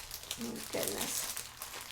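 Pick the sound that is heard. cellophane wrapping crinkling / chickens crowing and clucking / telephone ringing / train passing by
cellophane wrapping crinkling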